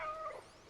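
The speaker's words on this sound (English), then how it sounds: "Oh, and maybe some meows." A cat in the video game Stray gives a single short, high meow, clear and close, with no talking over it.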